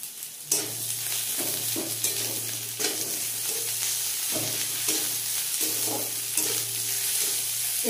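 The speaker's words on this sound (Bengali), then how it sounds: "এবার দিয়ে দেবো আদা রসুন," Crushed ginger and garlic fry in hot oil with onions for a prawn and banana-flower ghonto, sizzling steadily while a spatula scrapes and stirs in repeated strokes against the pan, close and fairly loud, with no voices.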